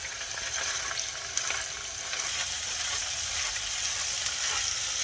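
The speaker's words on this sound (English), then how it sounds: "We are ready to flip the salmon now." Salmon fillets fry in a pan over low heat, giving a steady close crackling sizzle with scattered small pops and spits throughout, no voices over it.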